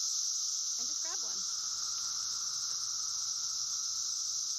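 Cicadas buzz outdoors in Gaithersburg, Maryland, a loud, steady, high-pitched drone that fills the whole stretch, with a faint brief chirping sound early on.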